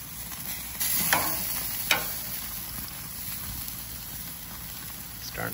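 Steak on a grill being flipped over, with a steady close sizzle and a couple of sharp scrape-and-clatter hits from the turn, then frying continues alone.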